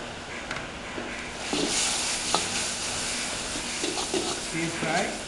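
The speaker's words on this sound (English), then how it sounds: "stir fry" Yellow noodles stir-fried with soy sauces, gravy and oyster sauce for mee goreng, a hissing sizzle that swells partway through with scattered clinks and scrapes of stirring, and a voice talking over it.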